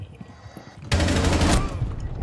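Rapid gunfire in Rainbow Six Siege bursts in suddenly after a quiet moment, a loud dense volley of shots close by that keeps going to the end.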